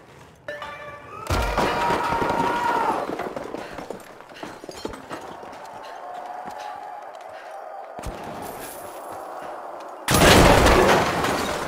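Gunfire and explosions in the shooter The Finals, with sharp bangs and a loud booming burst near the end, amid a busy mix of game noise and sounds of movement.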